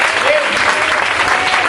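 A church congregation at a Pentecostal service applauds, dense sustained clapping filling the room with a few voices mixed in.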